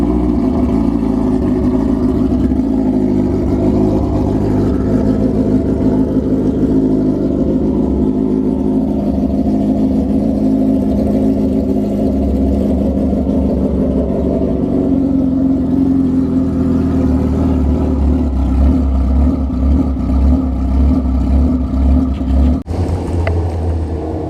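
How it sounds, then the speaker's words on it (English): 2003 Suzuki GSXR 1000 engine running through a Brock's header with a loudmouth exhaust, a loud, close, continuous drone that swells with revving and deepens later, ending in an abrupt cut-off. "Just going to fire it up, let you guys listen to the Brock's header with loudmouth"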